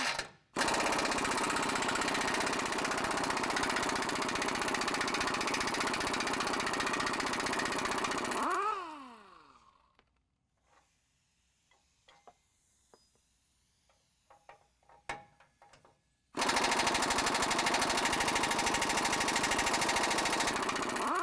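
A power impact tool rattles hard and loud on 24mm bolts holding a truck's front bumper guard, two long bursts separated by a quiet stretch with clinks of metal handling.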